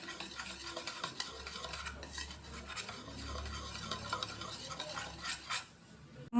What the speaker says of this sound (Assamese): আৰু এইখিনি অলপমান মিক্স কৰি লম